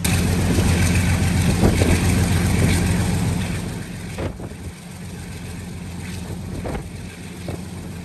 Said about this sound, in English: You can really hear the V12 turbocharged engine of our loco at work here.